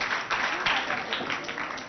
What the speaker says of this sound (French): Chers amis, on applaudit pour les